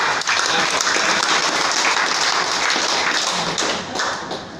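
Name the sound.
audience applause for the ustaz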